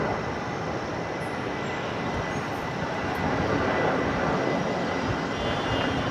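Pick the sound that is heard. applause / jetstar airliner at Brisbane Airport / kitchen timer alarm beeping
jetstar airliner at Brisbane Airport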